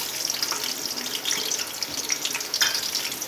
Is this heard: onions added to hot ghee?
yes